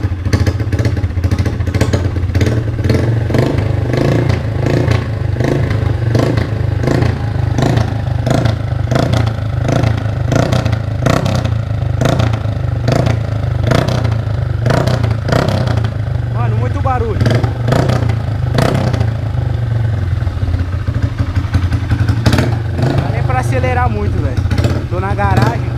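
A 160cc motorcycle fitted with a 600cc motorcycle exhaust revs again and again, its loud engine rising and falling in rapid rhythmic bursts, with occasional voices nearby.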